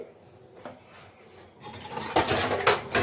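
Scrubbing a burnt steel pot by hand, starting faint and sparse, then building into loud, rapid metallic scraping and clattering strokes close up.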